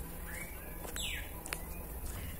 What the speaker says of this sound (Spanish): Ay, que los pájaros. Qué hermosos. Se escuchan a lo lejos.